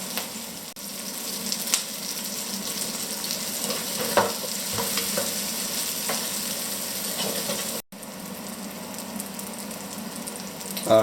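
Bell peppers sizzle and fry in hot oil in a pan, a steady crackling hiss with occasional louder pops and stirring, broken by a brief silence partway through.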